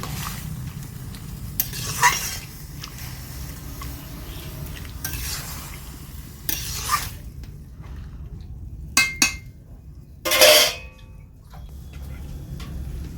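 Stirring of bottle gourd curry with fish head, ginger, slit green chillies and a splash of water in a pan, giving faint scraping and soft sizzling with a few sharp utensil clicks and knocks, mostly steady and close.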